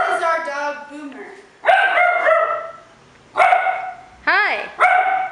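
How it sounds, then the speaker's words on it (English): A young puppy barks in repeated short bursts, close and loud, with pauses between the yaps and a rising yip near the end. "This is our dog, Boomer."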